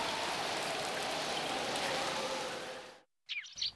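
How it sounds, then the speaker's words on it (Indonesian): Steady, dense rain with cold wind hisses for about three seconds in the anime Chibi Maruko-chan, then cuts off abruptly, followed by a brief silence and a few faint high chirps. "Hujan dan anginnya sangat dingin."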